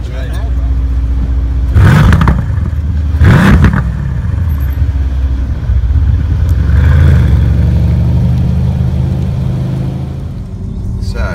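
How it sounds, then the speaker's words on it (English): A Mercedes C63 AMG's 4-litre twin-turbo V8 revs hard twice in quick succession over a steady loud rumble, then settles into a sustained drone with some muffled voices. "It's got a 4-litre twin-turbo V8 engine"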